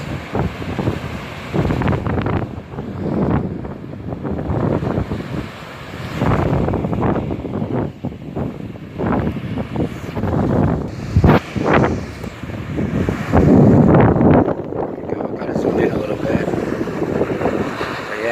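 Strong gusting wind on a lakefront beach near Chicago during a lightning storm buffets the microphone in heavy, uneven rumbles, with surf noise underneath and no clear speech.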